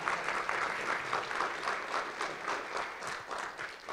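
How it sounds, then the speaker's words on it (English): Audience applause at a community healthcare meeting in Sheet Harbour, a steady dense wash of many hands clapping at moderate volume throughout, with no voices over it. "Please do not hold your round of applause to the end."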